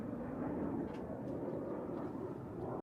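Military jets heading to RAF Valley on Anglesey pass as a steady, broad roar that stays loud and even throughout, with no voices over it.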